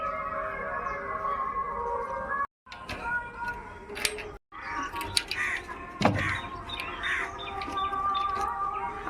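Pet pigeons being let out of their cage, including a Madras pigeon. Bird calls and chirps rise and fall close by over steady background noise, broken by a couple of brief silent gaps and some clattering.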